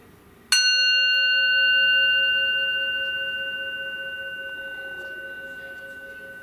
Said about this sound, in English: People who can hear the bell when you can't hear it anymore.